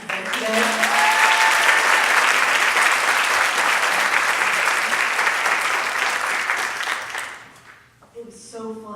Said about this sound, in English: can we just give a big old warm welcome and a round of applause and appreciation to Cheryl who helped plan this event today?